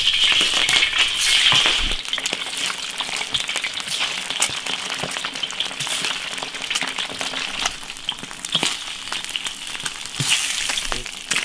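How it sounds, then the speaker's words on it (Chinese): Cured fish frying in an iron wok crackles and hisses continuously at close range, with dense oily spatter and scattered sharper pops throughout. "这个腊鱼快起之前要给它煎一下"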